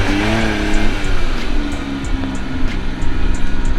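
A modified, lift-kitted mini truck engine runs steadily as the little truck drives, a continuous rumbling drone with shifting harmonics and light tire noise, fairly loud and close throughout.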